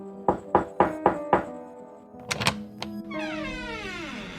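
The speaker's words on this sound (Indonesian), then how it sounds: "suara ketukan pintu kini terdengar jelas di pintu kamarnya" Five evenly spaced knocks on a bedroom door ring out loud and close, followed by a couple of heavier thuds and then a rising, warbling drone.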